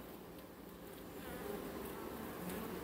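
Honeybees humming inside an opened hive being checked before winter, a dense continuous buzz that swells slightly, close and steady with no voices.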